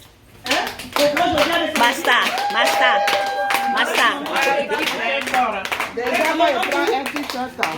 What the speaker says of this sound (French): Donc on peut applaudir quand même pour l'équipe.